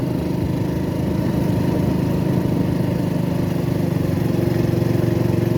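A motorcycle engine drones steadily while riding along a tree-lined road with small ghats, a loud, even mid-pitched hum and buzz that holds without a break and with no talk over it.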